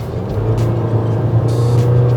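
Honda HR-V engine droning steadily under acceleration, a constant low hum with a strained, noisy tone throughout, close and alone without talk.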